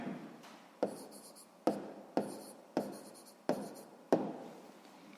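A pen writes on paper during a sixth-grade maths exercise, producing a series of close, soft scratching strokes, each starting with a light tap, about six in a steady rhythm.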